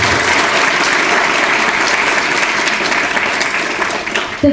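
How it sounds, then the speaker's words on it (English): Loud, sustained applause from the audience at the World Bank Korea Office 10th anniversary event fills the hall, many hands clapping evenly before tapering slightly at the close. "Please give a big round of applause."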